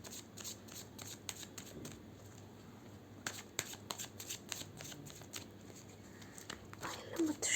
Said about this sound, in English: So we'll be pulling another card.